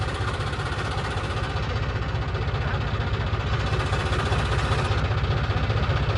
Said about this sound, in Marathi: आणि ते ट्रॅक्टर अजिबात थांबत नाही इकडे